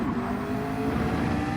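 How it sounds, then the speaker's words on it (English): An AMG Mercedes race car's engine roars steadily in a sim-racing game at the Nürburgring GP circuit during a 12-hour endurance event. It is a continuous droning note at moderate level with no talk over it. "AMG Mercs have the best engine sound."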